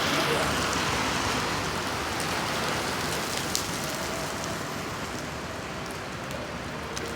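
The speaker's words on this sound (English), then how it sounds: "Wow, the raining is come here." Steady rain falling and pattering on surfaces, a dense even hiss holding at moderate loudness throughout, with no voices.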